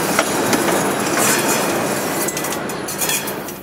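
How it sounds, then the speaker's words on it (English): A luxury train rolls along the tracks from Mongolia into Russia, with a loud, close, continuous rumble of wheels on rail, rhythmic clatter and a few faint metallic squeals. "the most beautiful luxury train, rolled on from Mongolia into Russia"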